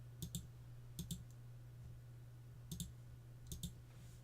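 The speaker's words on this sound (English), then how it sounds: "A bunch of miserable clicking for everyone." A computer mouse clicks in quick double pairs, four clusters spaced apart, faint and close over a steady low hum, with no talk.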